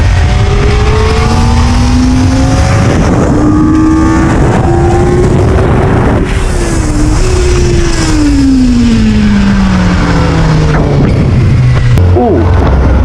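A Kawasaki ZX-4RR sport motorcycle's high-pitched engine, loud and close, revving up through rising pitch sweeps that climb, dip between shifts, then fall away as it decelerates.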